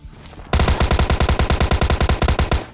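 Rapid automatic gunfire from a Mini 14 rifle in the game PUBG Lite, a loud, tightly spaced burst of about twenty shots in steady rhythm, heard alone without talk.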